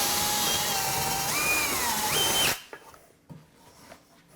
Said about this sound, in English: And then set that right in the cross, and then drill away. Nice and slow to begin with.